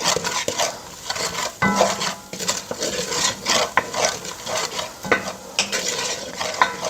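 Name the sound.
scraping the bottom of a frying pan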